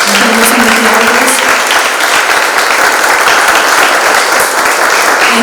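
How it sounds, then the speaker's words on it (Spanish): Loud, dense applause fills a room at an exhibition opening for a print culture show, sustained clapping from a close audience without a break. "un aplauso también a nuestros investigadores"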